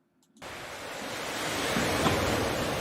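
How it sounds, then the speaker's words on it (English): Ocean surf rolls in along a Maui shoreline, a steady broadband wash that starts abruptly after a brief silence and swells slightly louder, with no voices. "I'm gonna leave on the sound of the waves though."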